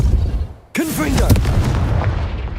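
A Confringo blasting spell in Hogwarts Legacy erupts with a sudden loud boom after a brief lull, followed by a sustained rumbling roar; a voice shouts the spell name as it fires.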